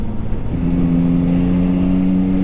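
A 2022 Yamaha MT-09 motorcycle pulling in sixth gear at light throttle, a loud, steady close engine drone with a sustained low hum that rises slightly in pitch, no talking.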